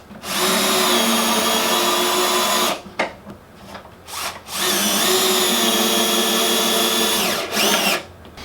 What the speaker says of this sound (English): Requires the use of a T30 star drive bit in order to drill that, to sink that structural screw.